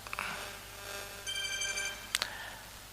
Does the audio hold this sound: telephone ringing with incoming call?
yes